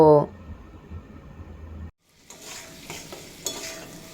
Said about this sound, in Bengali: এবার এড করে দেব ভেজে রাখা আলু আর কুমড়ো দিয়ে পর মশলার সাথে দুই মিনিট মতো কষিয়ে নেব